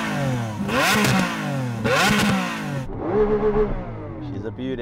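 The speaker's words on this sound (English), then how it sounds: "Listen to the glorious V12 of that Aventador." A Lamborghini Aventador SV Roadster's V12 revs loudly nearby in two sharp blips, followed by a lower, rumbling rev with crackles, while a person speaks briefly over it.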